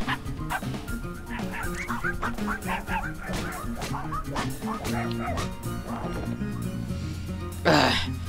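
Repeated dog barks and yips with a few whimpers in the video game Finding Paradise, set against game music and sound effects, with a brief sharp sound near the end.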